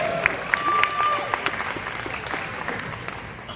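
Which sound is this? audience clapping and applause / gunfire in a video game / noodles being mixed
audience clapping and applause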